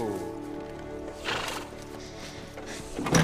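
A horse whinnies loudly and close, with snorting and shuffling in the background, the neigh rising again near the end.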